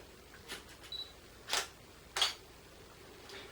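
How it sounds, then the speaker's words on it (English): A Canon 600D fitted with a Meike battery grip fires its shutter, giving two crisp mechanical clicks with a few fainter ticks around them, close and quiet, with no talking. "So let's just take one more picture,"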